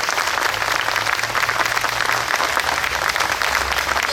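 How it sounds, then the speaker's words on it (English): Sustained applause from an audience honoring the young members of the Licking County 4-H band at a courthouse marker celebration, a dense steady wash of clapping with a faint low hum beneath. "join me in a big round of applause for all the young people of our Licking County 4-H band"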